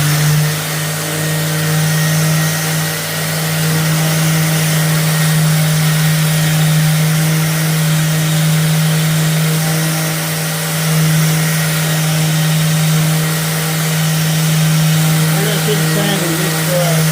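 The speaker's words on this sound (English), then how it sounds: "So, we are sanding it, and we're going to try and remove all these black marks" A wooden furniture top being sanded by machine with very coarse sandpaper to strip black marks, a steady loud motor drone with a strong low hum running continuously and close, with faint voices underneath.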